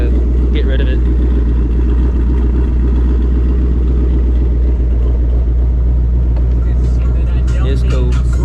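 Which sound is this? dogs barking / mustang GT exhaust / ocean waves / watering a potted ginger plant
mustang GT exhaust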